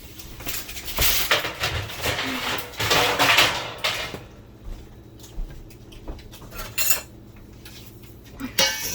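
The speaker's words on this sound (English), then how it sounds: "So now we just stir it to mix it in." Granola mixed with raisins, cranberries and chocolate chips is stirred in a bowl, giving dry rustling scrapes and clattering bursts that come in uneven strokes, then quieter scattered ticks and taps.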